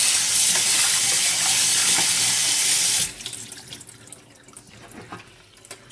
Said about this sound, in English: Then just give it a rinse like this.